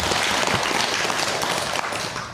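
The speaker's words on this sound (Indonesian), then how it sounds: "boleh kita tepuk tangan dulu" Audience at an Islamic Ramadan talk claps hands together, a dense, steady burst of applause filling the room with no speech over it.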